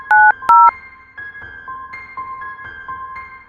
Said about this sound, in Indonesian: Ya udah, aku telepon dulu ya.